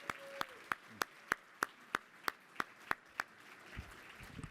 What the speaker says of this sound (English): another round of applause for Governor Malloy and David Etzweiler